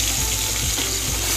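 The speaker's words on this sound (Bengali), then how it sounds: "আমি এটাকে একটু ভেজে নেবো ভালো করে" Tomato and onion fry in a pan after salt has gone in, with a continuous bright sizzle and a few soft stirring pulses over the short stretch, close and fairly loud, with no talking.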